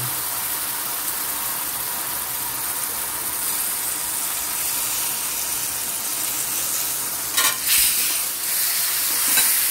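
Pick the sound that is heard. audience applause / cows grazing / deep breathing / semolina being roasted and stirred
semolina being roasted and stirred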